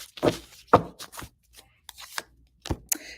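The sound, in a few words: shuffling a deck of oracle cards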